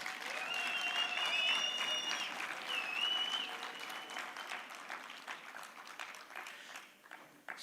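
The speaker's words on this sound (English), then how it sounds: "one last big round of applause" A conference audience gives a sustained round of applause, dense clapping that is loud at first and slowly thins out and fades, with a few whistles rising over it early on.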